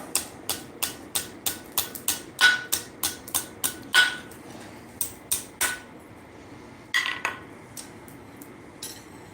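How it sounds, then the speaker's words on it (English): A hammer taps heated metal on the far side of an anvil while forging a small mouse figure, giving a rapid run of bright, ringing metallic strikes that slows and then thins out into scattered clinks. "I'm just going to tap it on the far side of the anvil"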